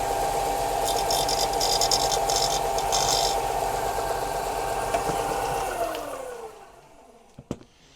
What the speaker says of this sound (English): So I'm just going to clean up the edge on my bench grinder